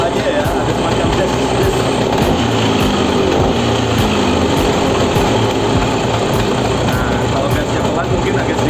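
Vespa Sprint scooter engine with a compression leak runs loud and close, giving a continuous rough drone that stays steady throughout.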